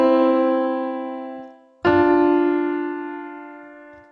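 Two piano notes struck together as a practice exercise, a sustained dyad that fades, then a second pair struck and left ringing, close and clear with no talking.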